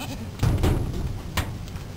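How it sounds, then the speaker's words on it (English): Baby goats on a blue goat farm bleat in a couple of short nearby calls over a low background murmur, with a soft thump between them. "These are all the baby goats."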